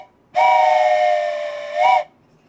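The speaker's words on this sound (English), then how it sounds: "This is going to be the last live train whistle." A steam train whistle from the OpenTTD railway game gives one long, loud, steady blast. The blast dips slightly, then swells again before cutting off sharply, with no voices around it.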